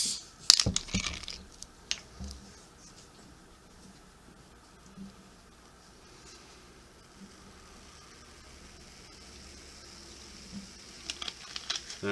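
Dr Pepper or Mr Pibb soda poured into a glass gives a faint, steady fizzing hiss with a few sharp clinks near the start, all fairly quiet and close.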